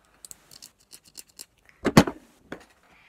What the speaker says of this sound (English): And also I have these scissors